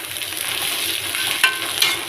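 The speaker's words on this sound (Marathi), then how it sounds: "मिक्स करून घेऊ।" A kurdai and onion mix being stirred in a hot pan, with a steady sizzle and faint scraping plus a couple of sharper clinks of the spoon, close and without talk.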